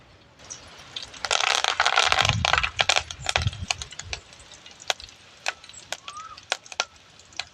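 Green chillies and onions being chopped on a board give a fast run of close knife taps that thins into sparse, sharp single knocks, with a faint voice in the background.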